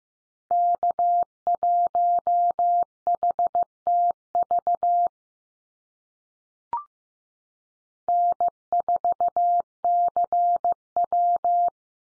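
Morse code call signs sent at 15 words per minute: a clean single-pitch tone keyed in short dots and longer dashes, grouped into characters with a gap in the middle, sounding close and clear.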